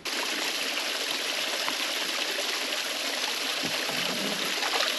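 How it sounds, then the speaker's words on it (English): A small stream in the Cheviot Hills on the English-Scottish border flows a few yards from a bothy, with a steady, close trickling and rushing of water. It carries on throughout with no voices. "The stream's only a few yards from the Bothy."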